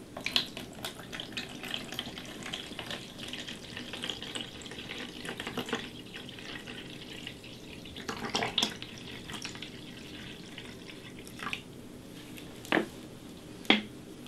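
Water poured and topped up into a measuring container of acid radiator flush mix for a PC watercooling loop, a faint trickling and splashing with scattered drips and small clinks, quiet and intermittent.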